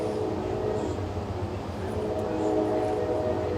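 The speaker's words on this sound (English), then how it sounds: "I'm waiting for the train. Y'all hear that?" A passing train rumbles steadily nearby with a low, sustained drone, a faint horn tone mixed into the roar.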